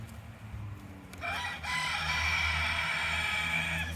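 A rooster crows loudly and close, a long drawn-out call starting partway through, over a low background hum.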